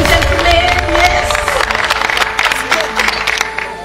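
Audience applause for Big Brother Cameroon housemates on a live eviction night: dense, steady clapping and crowd noise from a studio audience throughout, loud and close, with a voice speaking over it.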